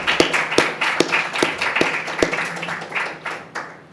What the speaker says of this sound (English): please join me for a round of applause for Michel.